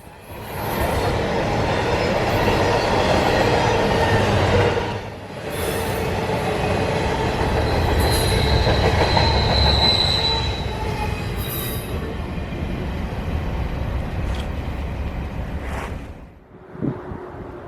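Freight train L709 rushing past at track speed, a loud sustained roar of rolling cars with sharp wheel squeals cutting in and out, easing briefly midway before a final fading rumble.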